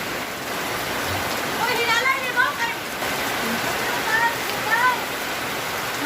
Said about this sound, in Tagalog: Kusog ulan ko.